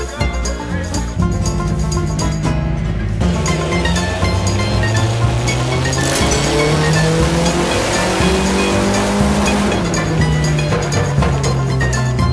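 A drift car with a newly fitted downpipe runs hard on a dyno, its engine roaring loudly and climbing steadily in pitch over several seconds, with rising and falling revs near the microphone.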